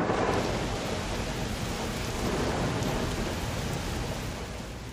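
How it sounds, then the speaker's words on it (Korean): Heavy rain pours down steadily on a roof in a dense, continuous roar with a low rumble beneath, loud and close throughout, no voices. "비가 세차게 쏟아지기 시작했다."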